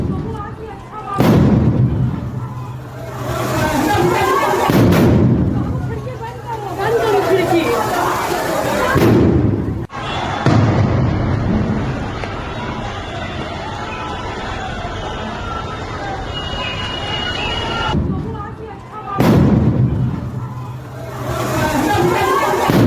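Bombs explode amid post-election political violence in West Bengal, with repeated heavy blasts and a roar of crowd noise and shouting that runs loud and continuous throughout.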